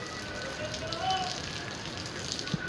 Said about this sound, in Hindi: यहाँ पे बारिश अल्लाह ताला ने बरसा दी